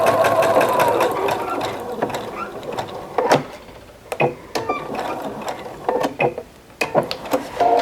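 A sewing machine stitches binding onto a large quilt. Its steady mechanical whir and rapid needle clatter come close up, then break into short stop-start bursts with clicks and pauses between them.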